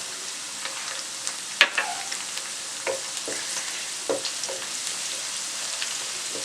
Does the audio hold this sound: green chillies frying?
yes